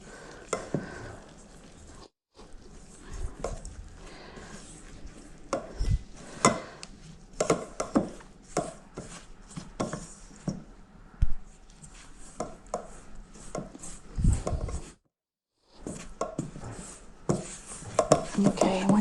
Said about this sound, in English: Let's start with a wooden spoon